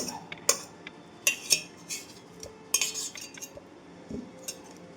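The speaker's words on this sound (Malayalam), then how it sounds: "അത് ഇതുപോലെ ഒരു ഫോർക്കോ സ്പൂണോ എന്തെങ്കിലും വെച്ച് ഒന്ന് ഉടച്ചെടുക്കാം." Boiled jackfruit seeds being mashed with a fork or spoon in a bowl, sparse metallic clinks and taps against the dish with soft squashing between them, close and fairly quiet.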